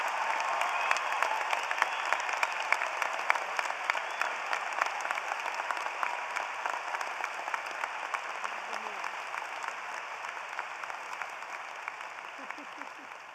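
A large audience claps continuously at a spring college commencement ceremony, sustained crowd applause with crisp individual claps that slowly tapers in loudness toward the end.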